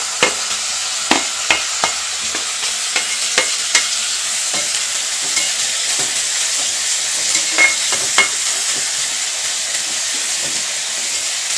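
Chopped onions with green chilli, ginger and curry leaves frying in a pan for sambar: a loud, steady hiss of oil with repeated sharp clicks of the spoon stirring, close up and without talk.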